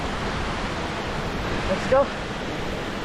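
Crystal Creek Falls pours as a steady, close, broadband rush of falling water with cold water over rocks, while a voice speaks briefly near the end.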